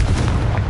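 Explosion of the Confringo blasting spell in Hogwarts Legacy, a brief, loud, deep rumbling boom that fills the whole moment.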